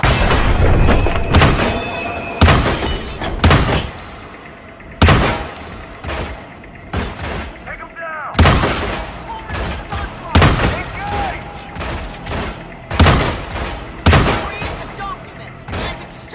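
Gunfire in a Hitman video game: loud, sharp shots and bursts arriving in irregular clusters with short gaps, booming close, with occasional voices between them.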